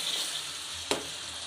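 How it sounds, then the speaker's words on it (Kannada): Onion and tomato frying together in a pan for egg Maggi; a soft, steady sizzle runs throughout, with one brief sharp clink of a utensil stirring midway. "ಈಗ ಈರುಳ್ಳಿನೂ ಟೊಮೊಟೊ ಎರಡನ್ನ ಮಿಕ್ಸ್ ಮಾಡಿಬಿಟ್ಟು 2 ನಿಮಿಷ ಫ್ರೈ ಮಾಡ್ಕೊಳ್ತೀನಿ"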